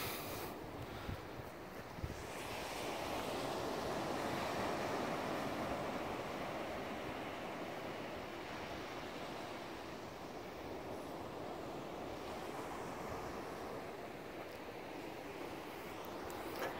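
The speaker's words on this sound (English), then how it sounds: "Check out that beautiful ocean." Ocean surf rolls onto the beach at Murrells Inlet on a January day as a steady, broad wash of breaking waves mixed with wind buffeting the microphone, with no speech.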